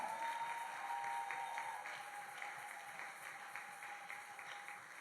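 A church congregation at a French-language worship service applauds and acclaims, a steady wash of clapping that holds the whole time with no spoken words, easing slightly toward the end.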